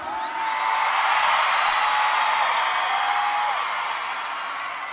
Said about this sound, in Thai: ขอเสียงกรี๊ดดังๆอีกครั้งหนึงครับ